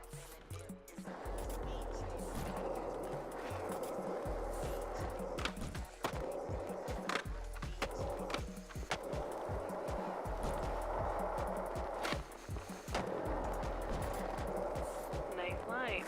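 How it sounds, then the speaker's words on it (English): Skateboard wheels roll steadily across pavement in the Skate video game, with repeated pushes and carving turns adding rhythmic clacks and scrapes over a continuous, fairly loud rolling roar. "This course has been scientifically engineered to practice the art of the push, roll, and carve"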